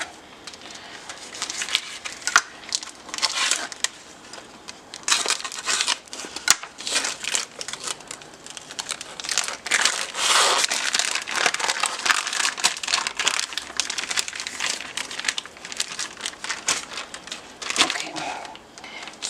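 A plastic bag of hot dogs is cut open with scissors and handled, giving dense, close crinkling and crackling with sharp snips, steady for about twenty seconds with no speech.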